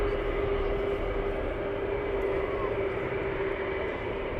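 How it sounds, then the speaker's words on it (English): MQ-9 Reaper aircraft starting up at RAF Lakenheath, heard as a distant, steady whine with a constant tone over a broad rumble, fairly faint and unbroken. "I do believe that could be the Reapers starting up"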